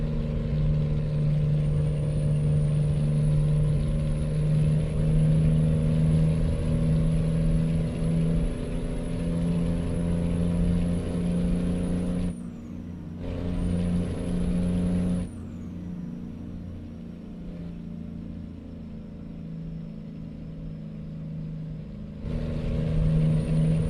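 Peterbilt truck engine droning steadily on the road in American Truck Simulator, a loud continuous rumble with a brief dip and change partway through, no talk.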